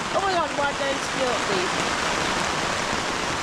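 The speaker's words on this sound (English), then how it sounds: "Now it's kind of light rain," Light rain falling outside at dawn, a steady broadband hiss close and loud throughout, with a person speaking briefly over it at the start.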